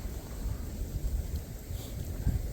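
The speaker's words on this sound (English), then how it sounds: "hello to another windy Minnesota day" Steady wind buffets the microphone on a windy Minnesota day with a low, rumbling roar, continuous and fairly strong, no voices.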